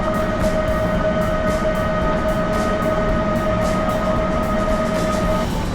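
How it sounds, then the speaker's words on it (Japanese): Continuous rumble and rattle of a Takamatsu-bound train in motion in Japan, with a steady high whine running through it, heard from inside; no voices. "なんか可愛い電車"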